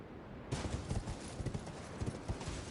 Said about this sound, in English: This fucking horse.